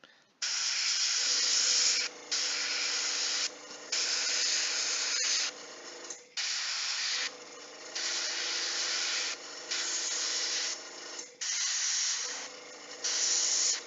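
Airbrush hissing as it sprays gray paint onto a Ninja All Stars Ronin miniature, steady bursts of airy spray lasting a second or two each, separated by brief pauses, close and alone with no talk.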